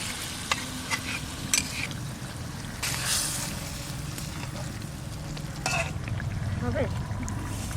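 Water poured into a stingray fish curry in a pot, trickling and splashing into the hot oil with a sizzle and some stirring clatter.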